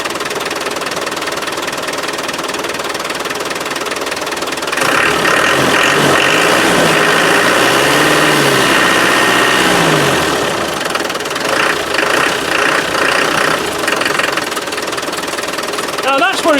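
A Land Rover 300Tdi diesel with fuel supply problems idles with a knocking, uneven clatter that swells louder midway, with a voice talking over it.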